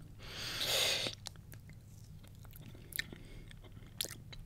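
Close crunchy chewing and biting of generic mixed-berry fruit candies from a candy bag, with a louder burst of crunching near the start followed by quieter, scattered mouth sounds.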